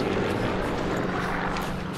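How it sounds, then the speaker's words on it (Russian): Airplanes drone overhead in Sniper Elite 3, a continuous loud rumbling engine roar filling the whole stretch without breaks. "Самолеты."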